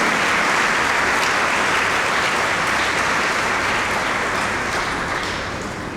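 A church congregation at an Ascension Sunday Mass bursts into loud, sustained applause, dense clapping from a large crowd that fades gradually toward the end, with no voices.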